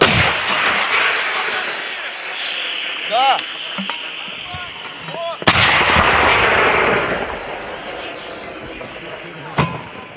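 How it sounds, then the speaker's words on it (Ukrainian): A loud boom from an artillery cannon on the Ukrainian front line splits the air amid continuous outdoor rumble, with a shouted firing command just before; a second sharp report follows near the end. "Гармата!"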